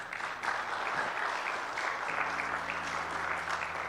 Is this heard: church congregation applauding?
yes